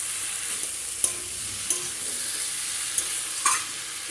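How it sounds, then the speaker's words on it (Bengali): Cauliflower tossed in spice masala in a frying pan: a continuous bright sizzle with four sharp spoon scrapes against the pan at irregular intervals, close by and without speech. "তারপরে দিয়ে দেবো এর মধ্যে ফুলকপিগুলো দিয়ে আবার একটু নাড়াচাড়া করে নেব"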